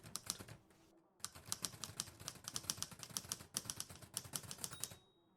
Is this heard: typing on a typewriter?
yes